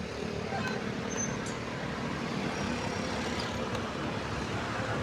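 Steady road traffic rumbles around a motorbike riding through Cordova, Cebu, a dense wash of car, bus and truck noise at moderate level with no clear gaps.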